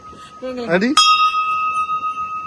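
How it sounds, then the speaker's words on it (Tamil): A voice speaks briefly, then an electronic doorbell sounds a single bright, ringing tone that lingers and fades slowly. "இதான் காலிங் பெல்"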